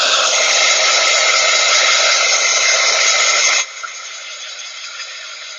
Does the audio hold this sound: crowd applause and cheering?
no